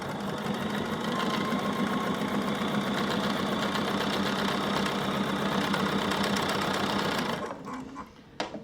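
A sewing machine stitches nine patch quilt block pieces in a steady, fast continuous whir with a rhythmic mechanical hum, close and loud, running alone for several seconds before stopping abruptly.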